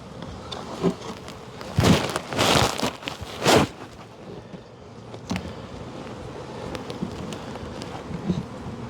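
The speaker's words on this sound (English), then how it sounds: "the bees are coming up on this side a little bit" Steady buzzing of a bee crowd at an opened hive fills the clip, with a few louder bursts early on, like bees passing close, then a softer continuous hum.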